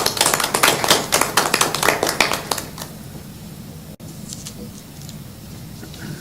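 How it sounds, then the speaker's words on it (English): A small presentation audience claps after a LinkedIn talk, a brisk patter of hands for about three seconds that quickly thins out into quiet room tone. "give him a big round of applause"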